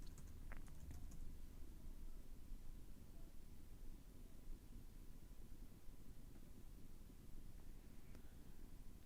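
Someone types on a computer keyboard at a desk, giving faint, soft key clicks under a steady hiss of room noise.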